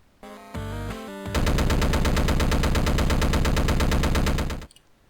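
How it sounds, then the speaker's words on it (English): Gun boots fire in the Downwell video game: a short chiptune jingle gives way to a loud, rapid, continuous retro machine-gun burst that stops abruptly near the end. "allow you to fire your gun boots indefinitely"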